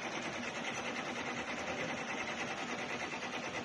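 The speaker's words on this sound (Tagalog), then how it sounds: "At ito po ang aming embroidery machine." An embroidery machine runs with a steady, dense mechanical whir and a fast stitching chatter, continuous and fairly close throughout with no voices.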